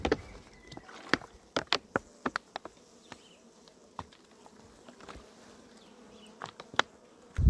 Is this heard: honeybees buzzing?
yes